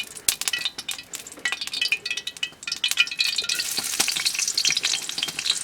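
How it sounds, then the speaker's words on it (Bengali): Chopped onions hitting hot oil in a pan, a close, bright sizzle that builds and thickens into a dense steady crackle, with scattered clinks and scrapes of a utensil against the cookware and no talking. "পরিমাণ মতো তেল দিয়ে দিলাম, এতে দিয়ে দিব পেঁয়াজ কুচি"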